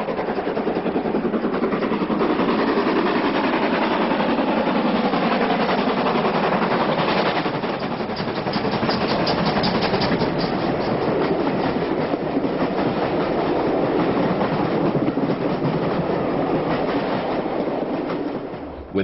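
Western Region locomotive working a southbound train hard, accelerating over a newly laid double-track section, with a loud, steady engine roar and clattering wheels that hold close and strong throughout with no voices.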